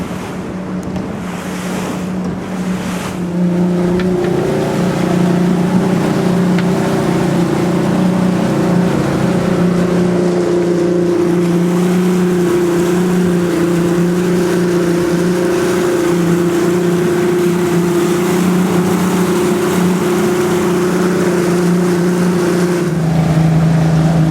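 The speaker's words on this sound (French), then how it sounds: "Très peu de bruit à l'intérieur quand le moteur tourne." A Shetland 4+2 boat cruises with its V6 175 hp outboard motor running, a steady loud engine drone heard under wind and water rushing past the hull for the whole stretch.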